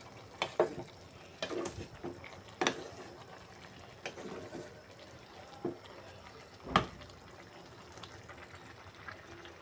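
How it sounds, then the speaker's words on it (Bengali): Khichuri being stirred in a cooking pot: intermittent scraping strokes of a spoon against the pot over a soft, continuous simmering sizzle, with a few sharper knocks. "এখন একটু করে লাড়ি দেব"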